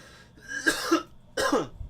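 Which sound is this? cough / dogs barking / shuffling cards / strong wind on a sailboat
cough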